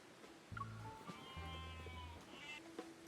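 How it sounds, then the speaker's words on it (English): A fluffy lamb out on open grassland gives soft, quavering bleats, a couple of faint calls over a quiet background with no voices. "A fluffy lamb trots up to us."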